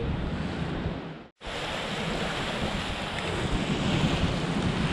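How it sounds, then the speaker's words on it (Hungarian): Sea waves wash steadily beside a fishing harbour in Greece, a broad continuous roar with wind buffeting the microphone; one brief dropout breaks it near the start, and no one speaks. "Jó esik bámészkodni a tájat, hallgatni a tenger morajlását."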